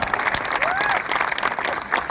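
Sustained crowd applause at a political rally in Ahilyanagar, a dense, steady wash of clapping hands lasting the whole stretch, loud and close with a faint voice or whistle-like tone drifting over it.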